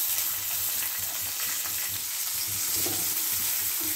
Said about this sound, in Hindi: प्याज और हरी मिर्च को 2 मिनट तलने के बाद दूसरी चीज़ें ऐड करेंगे हम।